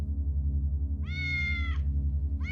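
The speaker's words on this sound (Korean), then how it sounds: "고양이 울음소리가 들렸습니다" A cat meows twice, a long drawn-out call followed by the start of another, heard over a steady low droning hum with no speech.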